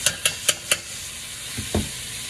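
Minced garlic hits a hot pan with shrimp, a quiet sizzle running under four quick clinks of a utensil at the start, followed later by a couple of softer scraping stirs.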